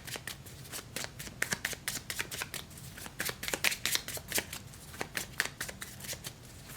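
Tarot cards being shuffled by hand, a brisk run of crisp riffling snaps and flutters, close and clear with no talking.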